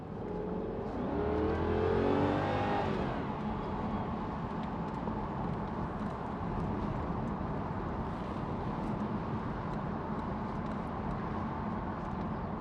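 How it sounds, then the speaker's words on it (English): A 2001 Jaguar XK8 4.0 convertible's engine revs up and its pitch sweeps down in the first few seconds, then settles into a steady, muffled driving rumble. "Listen, that Jag engine."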